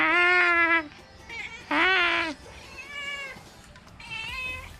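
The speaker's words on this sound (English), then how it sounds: "Look at that cat" A cat meows loudly and close by in a home setting, with two long drawn-out calls and then softer, shorter meows, and no talking.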